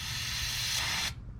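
Cleaner sprays hard into a two-stroke engine in one continuous, loud hissing burst that cuts off abruptly after about a second.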